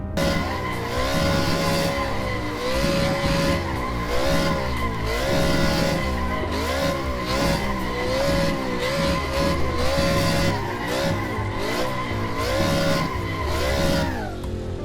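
A car drifts in tight circles on asphalt, its tires squealing continuously in long wavering screeches over a revving engine, loud and close for the whole stretch.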